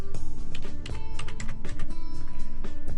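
Fast typing on a computer keyboard, a dense run of close, crisp key clicks with brief pauses.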